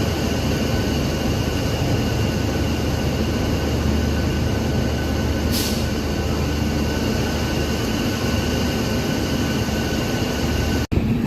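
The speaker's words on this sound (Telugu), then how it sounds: "ప్యారలల్గా వెళ్తున్నాయి చూడండి 2 ట్రైన్లు." Two trains run side by side, producing a constant, dense rumble of wheels and track noise at close range, broken by a brief hiss midway and a short click near the end.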